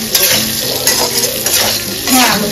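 Potatoes fry in hot oil in a pan while cooking a Bengali home lunch: a continuous close sizzle with scraping stirs and light clinks of a utensil against the pan, with no talk.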